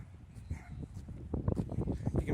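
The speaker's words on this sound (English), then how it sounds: "You can probably hear the dog barking." A dog barks repeatedly at a distance in short uneven bursts, mixed with other indistinct outdoor noise.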